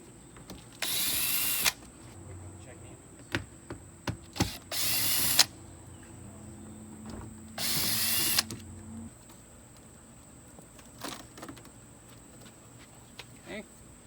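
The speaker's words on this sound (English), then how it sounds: "then you take all the screws out around the outer edge here." A power drill runs in short bursts, each lasting about a second, as screws are removed from the cover of an RV furnace during maintenance, with a person talking between the bursts.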